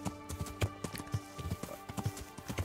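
Horse hooves clip-clop in the medieval video game Kingdom Come: Deliverance, a steady trotting rhythm of soft, close thuds with faint clatter, quiet and unaccompanied by talk.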